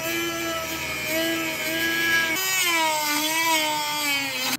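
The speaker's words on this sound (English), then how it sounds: "I'm just going to be using a Dremel." A Dremel rotary tool cuts on an E36 car part with a steady high-pitched whine that shifts pitch midway as the load changes, continuous and close, with no one talking.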